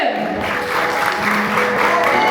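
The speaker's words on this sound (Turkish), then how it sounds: "ona kocaman bir alkış rica ediyorum" Large audience at a ballet performance gives a ballet soloist sustained, loud applause, a continuous dense roar of clapping with crowd noise mixed in.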